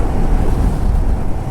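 Sea waves at Dhanushkodi wash in toward the road, a steady low broadband rush with wind buffeting the microphone, loud and continuous without speech.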